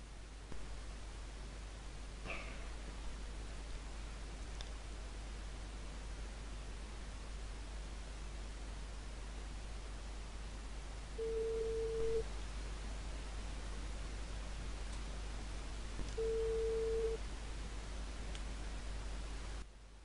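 Two ringback tones from an outgoing call placed with the Nonoh VoIP program, each a steady electronic beep about a second long and spaced several seconds apart, over a faint background hiss.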